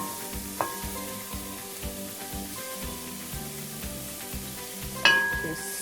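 Green onions, garlic and thyme sizzle steadily in a hot pan, a continuous close frying hiss with a soft clink near the start and a louder utensil clatter toward the end.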